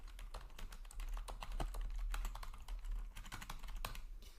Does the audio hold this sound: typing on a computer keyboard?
yes